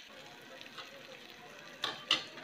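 Malpua batter frying in ghee or refined oil in a pan: a steady, soft sizzle throughout, with two sharper crackling pops near the end.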